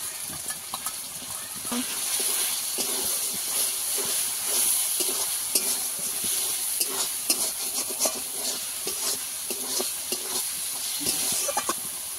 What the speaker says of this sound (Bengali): এবার আগে থেকে ভিজিয়ে রাখা লঙ্কা হলুদ দিয়ে দেব